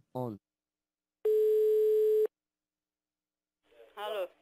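A single steady telephone ringback tone on an outgoing prank call sounds loud and clear for about a second, with short bursts of a voice just before and after it.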